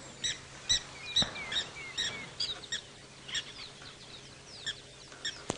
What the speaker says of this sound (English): You hear those birds calling, Seb?